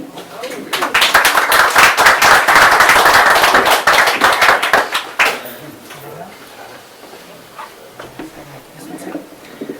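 An audience at a poetry night in a bar in Limerick applauds loudly for about five seconds, with a few whoops, and the clapping then fades into scattered claps and murmuring.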